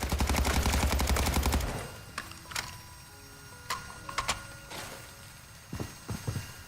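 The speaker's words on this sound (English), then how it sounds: "the NPCs shooting back at me" NPC gunfire in the video game Modern Warfare 3 Zombies opens with a rapid automatic burst, then gives way to scattered single shots and short bursts at a lower level.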